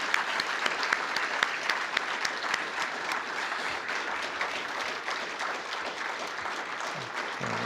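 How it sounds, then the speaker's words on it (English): An audience applauds candidates at a West Virginia Supreme Court of Appeals forum, with sustained, even clapping from a roomful of people that stays steady throughout at moderate volume. "Please join me in a round of applause for our candidates here."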